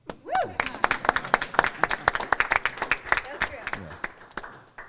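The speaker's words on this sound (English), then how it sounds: "We'll clap for that." An audience at a workplace meeting on a worker consultation policy claps in a scattered, moderately loud burst of individual claps, with a voice speaking over the start.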